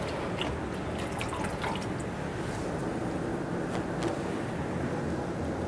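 Water runs and splashes steadily during a skin rinse at a skin care seminar, with soft drips throughout and no talking.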